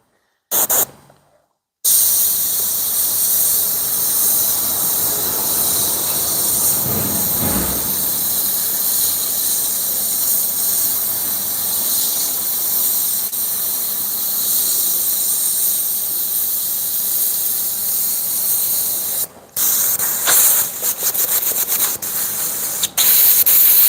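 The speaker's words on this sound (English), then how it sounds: "this airbrush is not working right" An airbrush sprays paint onto a hoodie with a steady, loud hiss that runs almost without a break, cut only by brief stops near the start and toward the end.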